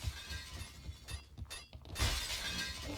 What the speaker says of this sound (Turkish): Yine cam kırıyor.